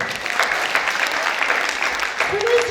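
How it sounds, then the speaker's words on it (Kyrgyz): Sustained applause from an audience at a Kyrgyz Sarmerden youth contest, an even wash of many hands clapping, with a short voice-like tone rising near the end. "кыздар жамаатына кол чабуулар болсун"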